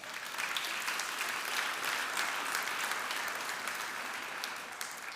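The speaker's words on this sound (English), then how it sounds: "Ladies and gentlemen, I think that deserves a round of applause." An awards ceremony audience applauds steadily, a fairly soft but dense patter of many hands that holds evenly for about five seconds.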